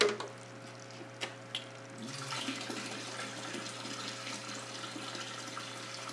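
Water drawn out of a small 5-gallon fish tank, a soft steady trickling flow that starts after a couple of faint knocks and runs on quietly to the end.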